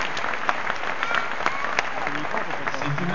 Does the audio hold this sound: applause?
yes